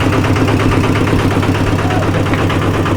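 A car engine idles close and loud with a steady, even rumble and a faint rhythmic pulse that holds without change throughout.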